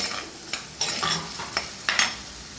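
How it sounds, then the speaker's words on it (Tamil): Onions sauté in a pan with salt and asafoetida for a tuna fish curry, a soft close sizzle punctuated by several quick scraping stirs of a spoon at an uneven rhythm. "வெங்காயம் நல்லா வதங்கட்டும்"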